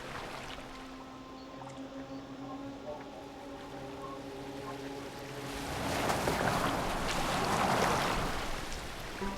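A boat moves across the water in the Assassin's Creed Valhalla video game. Soft tonal music plays first, then a steady, fairly loud wash of water and waves rises and holds to the end.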